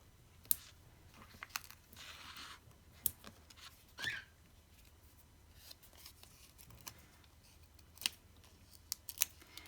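Scissors trim the edges of a die-cut butterfly of gold foil paper in a quiet room, giving scattered soft crisp snips and clicks at irregular intervals.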